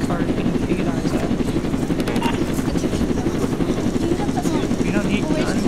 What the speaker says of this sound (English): have the cop bring down a helicopter